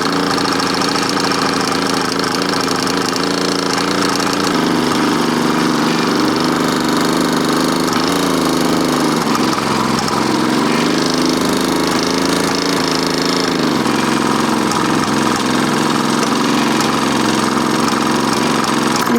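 A small two-stroke Gnom auxiliary engine on an Ambasador bicycle runs steadily and loudly throughout, a buzzing mechanical drone with a slight shift in pitch partway through.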